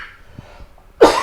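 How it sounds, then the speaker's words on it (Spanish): A single sharp, loud cough from a man, close up, after a quiet pause with faint breath sounds. "Y la tos me está acompañando todavía"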